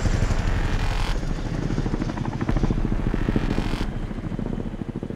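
A Chinook twin-rotor military helicopter at Netheravon airfield, a steady loud rotor and engine roar with a pulsing beat throughout, no talk.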